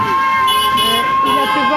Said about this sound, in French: Un klaxon pour Kiki.